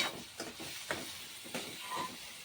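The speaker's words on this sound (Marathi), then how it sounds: "आता बघा मस्तपैकी बटाटा असा फ्राय होत आहे छानपैकी" Potatoes frying in a pan for a home-cooked aloo methi bhaji, a soft, steady hiss broken by a few faint crackles and clicks.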